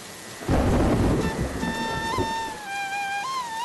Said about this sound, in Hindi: बारिश की बूंदें अब मूसलधार हो चुकी थी।